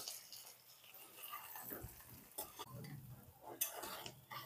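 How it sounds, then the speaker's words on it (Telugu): A spoon scraping and stirring masala spices, mint and coriander into frying chicken in a pan, soft irregular scrapes and clinks over a low sizzle, close and quiet. "వేసిన మసాలాలన్నీ కూడా బాగా కలపాలి"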